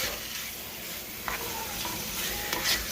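Beef and spaghetti being stirred in a hot pan, with steady sizzling and frying throughout and a few faint utensil scrapes against the pan, close and continuous.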